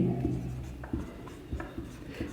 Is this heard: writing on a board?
yes